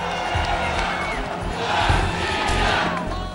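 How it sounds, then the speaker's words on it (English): A huge crowd on Red Square cheers and roars for the Russian president after Crimea's annexation treaty, a continuous, loud wash of voices and shouts swelling slightly midway, heard from within the mass. "The Russian president was meanwhile welcomed by a delirious crowd at the Red Square"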